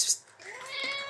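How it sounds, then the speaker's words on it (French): A pet cat named Roquette gives a single drawn-out meow, close and clear, after a short breathy noise at the start. "Comment ça va mon chat?"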